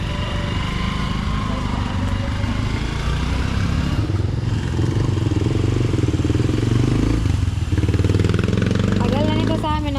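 A motorcycle with a recently replaced sidecar, about three years old, runs steadily close by with a dense, loud mechanical drone that continues throughout, while people talk over it.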